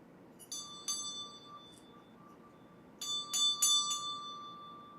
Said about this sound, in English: I'm going to ring your bell.